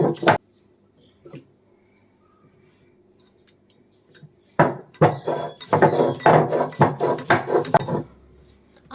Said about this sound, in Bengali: এরপরে আমি কিছুটা আদা পিষে নেব